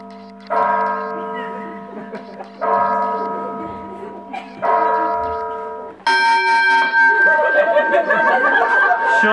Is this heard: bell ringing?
yes